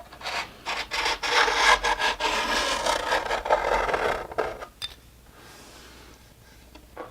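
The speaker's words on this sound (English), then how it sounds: "You can tell that the file is rougher one side than the other." A metal file rasps steadily along a snowboard's steel edge in close, continuous scraping strokes, then stops for a quieter stretch near the end.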